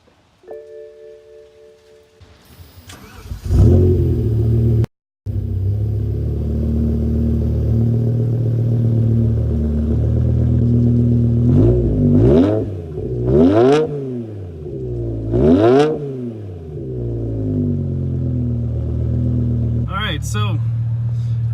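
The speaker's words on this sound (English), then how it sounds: "had a little taste of the exhaust notes" A 2006 BMW E60 M5 with its V10 engine starts up, then idles loudly before several sharp throttle blips rise and fall, followed by a steady idle and one more brief rev near the end.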